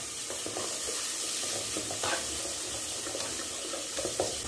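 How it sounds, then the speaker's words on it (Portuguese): Onion and garlic frying in a thin drizzle of oil in a pan, a steady close sizzle with a few scraping stirs and small clatters, no voices. "Vou colocar um fiozinho de óleo. Vou colocar aqui a cebola. Vou colocar o alho."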